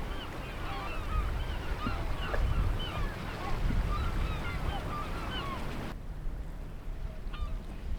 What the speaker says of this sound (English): The noises of the birds is so nice.